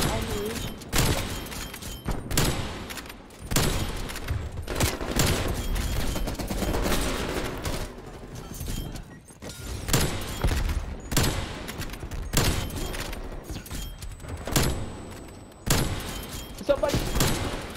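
Repeated bursts of gunfire from the video game Call of Duty Cold War, loud and close with rapid volleys, while a voice talks at times over the shooting.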